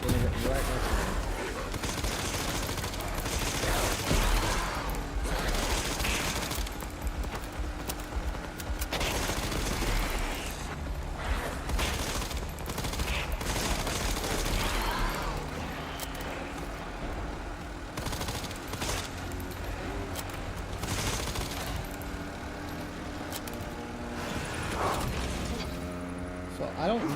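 Gunfire in the video game Resident Evil Requiem crackles in repeated bursts and sharp shots over game music and effects, dense and loud, with a voice talking over it.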